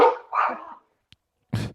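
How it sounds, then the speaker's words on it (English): Dogs bark indoors in a few loud, close barks, two quick ones then a pause and one more, with no talk over them. "The dogs are getting excited for us too, Danny."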